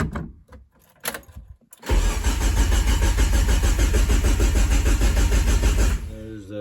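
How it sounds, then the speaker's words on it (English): Car engine cranking over with its internal parts removed, a few short clicks and bursts, then a loud, fast, rhythmic whirring churn from the starter for about four seconds before it stops. "let's see if the engine will crank over for us."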